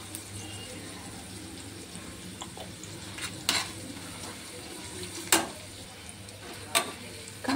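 Ridge gourd and onion stir-fry in a pan with a faint, steady sizzle, broken by a few sharp scrapes and clatters of a spoon against the pan.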